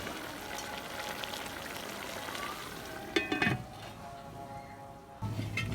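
Beef karahi with halved tomatoes simmering in a covered pot, a faint, steady sizzle and bubbling that continues throughout, with a brief clatter of movement partway through.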